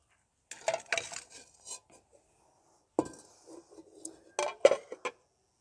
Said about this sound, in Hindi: अब दोबारा से मैं कढ़ाई रख लूँगी चूल्हे पे